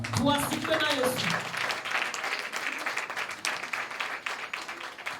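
A church congregation bursts into sustained applause in praise of the Lord, dense broadband clapping filling the room, with a voice and some cheering over it at the start.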